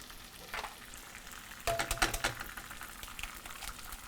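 Eggs cracked into a hot pan, a sharp crack and crackling burst of sizzle followed by steady frying hiss, close and moderately loud with no talking.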